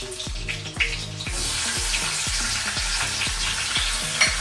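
Onions sautéing in a pan for a Maharashtrian home meal, a steady close sizzle with rhythmic stirring scrapes and clinks throughout, no voices.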